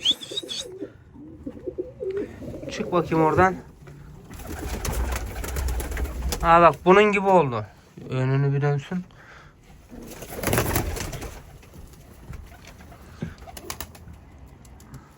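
Mardin pigeons coo in several short, warbling bursts, close and clear, mixed with someone speaking Turkish intermittently.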